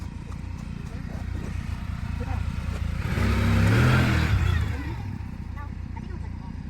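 A horse being ridden outdoors near a garden clip-clops past, its hooves swelling louder as it nears and then fading, over steady background noise.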